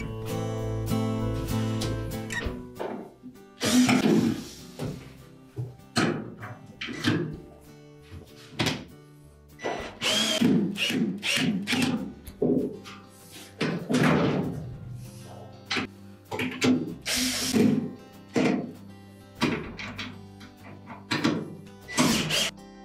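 A power tool drives screws while a brake stator is fitted into a Whirlpool washing machine: repeated short whirring bursts separated by clunks and thuds of metal parts, close up and without speech.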